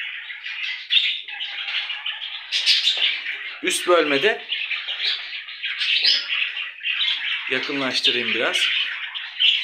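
Budgerigars chirp and squawk continuously inside an indoor home breeding cage, a dense chattering chorus close by, with someone talking briefly over it.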